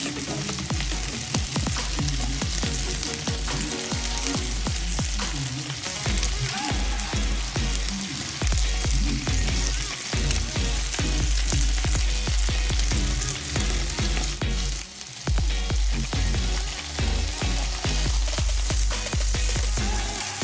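A whole lemon-and-herb marinated chicken sizzles loudly and steadily on a double-sided grill pan as it is basted, a dense crackling fry running continuously from start to finish.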